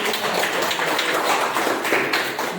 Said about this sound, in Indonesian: saya ingin memberikan aplaus dulu